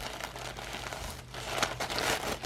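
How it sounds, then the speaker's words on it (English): Tissue paper rustles and crinkles as it is unwrapped, with soft irregular crackles and a few sharper crunches, close but quiet, and no voice over it. "So it's wrapped in tissue paper with this nice little"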